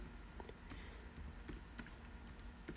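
Typing on a computer keyboard, a steady run of quick, light key clicks at low volume, close by and without voices.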